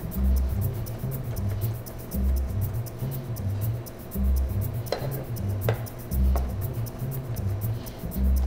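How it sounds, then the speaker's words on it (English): A kitchen knife repeatedly chopping garlic on a cutting board, mincing it down into a sticky paste, with a steady run of dull close-up knocks and a few sharper taps of the blade. "all you want to do is keep chopping this up"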